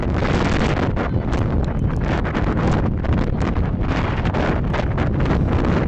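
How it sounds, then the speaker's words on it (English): Strong wind blowing outdoors at a high school softball game, a loud, steady roar buffeting the microphone with constant gusty rumble and hiss, no voices heard. "It is starting to get windy outside again"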